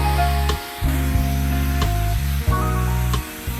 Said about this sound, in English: This high-speed hair dryer is designed to minimize damage while drying hair quickly.